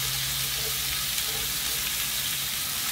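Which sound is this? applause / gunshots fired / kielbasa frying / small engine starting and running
kielbasa frying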